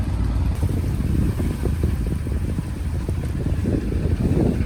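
Narrowboat engine rumbling low and steady as the boat turns in a winding hole on an English canal, with wind buffeting the microphone and no speech.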